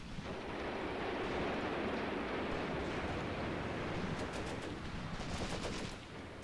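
Gunfire in the WWII tactics game Graviteam Mius Front comes as dense, continuous distant rattling and popping under a steady roar, with sharper nearby shots breaking through toward the end.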